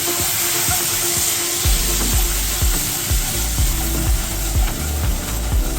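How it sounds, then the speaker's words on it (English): Heavy cream poured into a pan of caramel for an apple cake and stirred constantly, a steady bubbling sizzle with repeated scraping strokes of the spoon across the pan, close and continuous. "So I'm going to add in a little bit of heavy cream here."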